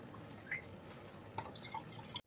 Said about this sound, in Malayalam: പിന്നെ ഈ ജാറൊന്ന് കഴുകി കുറച്ച് വെള്ളം കൂടി ഒഴിച്ചു കൊടുക്കാം.